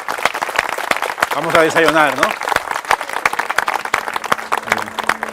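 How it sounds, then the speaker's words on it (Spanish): Audience applause rises and falls for several seconds at the close of a guided garden tour talk, with a voice speaking over the clapping and a brief sung or called phrase near the middle. "aplauso, ¿no?"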